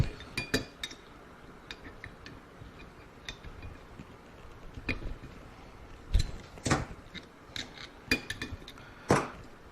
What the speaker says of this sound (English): I like to use the blind bearing puller.